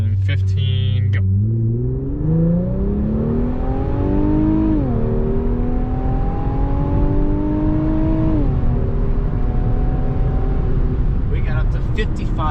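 A 2021 Infiniti Q50 400 Red Sport pulls hard from a rolling start, its engine rising in pitch through the gears with short dips at each shift, loud and steady from inside the cabin.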